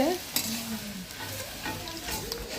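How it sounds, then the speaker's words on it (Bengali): Potatoes frying in oil during home cooking for a birthday meal, a steady sizzle with stirring scrapes and a sharp clink near the start, close and fairly quiet. "আলু পটলে আলুটা ভাজা হচ্ছে না?"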